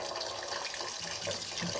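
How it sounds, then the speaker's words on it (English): Tap water runs steadily into a rice pot in a home kitchen, a close, even splashing hiss with no talk over it. "Okay, pour tap water."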